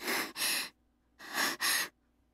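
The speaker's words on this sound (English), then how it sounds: "Breathing's rough and ragged." A visual novel character breathes roughly and raggedly, two pairs of harsh, breathy inhales and exhales, close and fairly loud, with quiet pauses between them.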